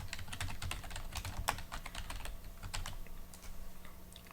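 Fast typing on a computer keyboard while writing code, crisp key clicks in quick irregular bursts, near and fairly quiet, with no talk over them.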